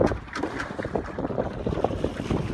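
Steady wind rushes and buffets across the mic on a cold, windy day while a sailboat is under sail, water and boat noise rumbling underneath, continuous and fairly loud, with no talking.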